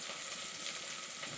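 Ingredients fry in hot oil in a pan, giving a faint, steady hiss and sizzle with no voices over it.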